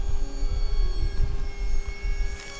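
A remote-controlled F16 model jet flies overhead with a steady, high whining engine tone over low rumbling noise, and no talk.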